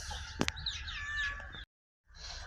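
Chickens cluck in short, throaty bursts at close range on a frosty village morning as they are let out, followed by a sudden silence and then a return of faint background noise.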